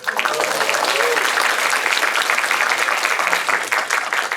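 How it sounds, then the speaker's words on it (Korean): Audience applause fills a film talk event for the Korean movie 'Hunt', dense and steady clapping from a crowd, sustained at a loud, even level throughout with faint voices mixed in. "박수 쳐줘서 고맙습니다"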